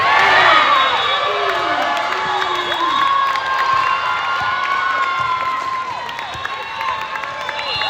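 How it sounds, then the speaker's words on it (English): A crowd at an adjacent volleyball court cheers and shouts during a close game, a dense, continuous roar of voices with whoops and whistles, moderately distant, and a nearby voice talking faintly underneath. "The game directly behind me in the adjacent court is neck and neck. The crowd is loud."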